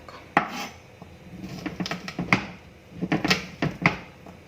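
Garlic cloves are smashed in a kitchen, giving a series of sharp, close knocks and clatters of a blade and utensils against a board and dishes, irregular in rhythm, with no talk.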